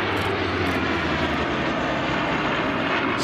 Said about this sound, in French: Regardez aussi le Fury, avion à hélice